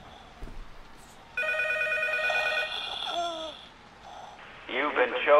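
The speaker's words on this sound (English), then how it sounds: "The phone is ringing." A telephone rings in the horror game P.T. (Silent Hills), its repeated electronic ringing tones standing out fairly loud over excited voices talking and shouting throughout.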